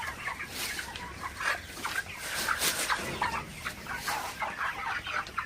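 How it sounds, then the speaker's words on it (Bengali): Broiler chickens, about 39 days old and weighing over 3.5 kg, cluck continuously in a farm shed. Overlapping clucks and murmurs from many birds form a busy, close chorus with no pauses. "তো আমি যে ব্রয়লার মুরগিগুলো বড় বানানোর জন্য রাখছিলাম"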